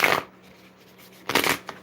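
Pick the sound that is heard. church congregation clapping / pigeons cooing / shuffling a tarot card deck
shuffling a tarot card deck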